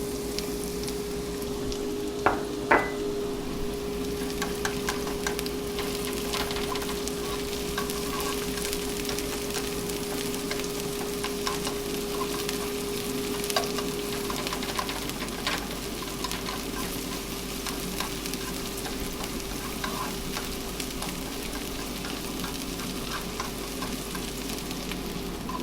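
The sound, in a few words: shallots sautéing in a pan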